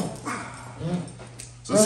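A police dog in bite training gives brief whimpers and yips in short bursts, mixed with people talking nearby and handling noise.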